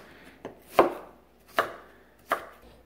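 Red pepper being diced on a cutting board for fried rice, four sharp knife chops at uneven intervals, close and clear with no talk.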